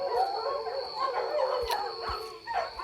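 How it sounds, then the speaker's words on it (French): Several dogs barking and howling together, a loud, close chorus of overlapping howls and yips with no speech. "tous les chiens sont fous ici"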